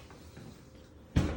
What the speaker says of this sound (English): And you close the door